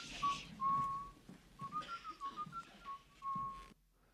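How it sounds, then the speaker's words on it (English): A man in a film whistles a short, bright melody near and clear, the tune rising and falling in several phrases against a quiet room. "This man comes in whistling."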